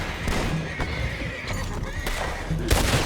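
Horses neigh and whinny in Red Dead Redemption 2, a couple of high calls over faint hoof clip-clop and low background rumble, fairly quiet and mid-distance.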